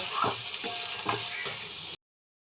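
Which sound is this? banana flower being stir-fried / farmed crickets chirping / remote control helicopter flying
banana flower being stir-fried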